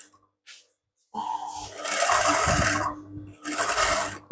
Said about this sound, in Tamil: அப்ப நான் அப்படியே கழுத்துன்ற அளவுக்கே வந்து தையல் போட்டு அப்படியே புரட்டி தைக்க போறேன்.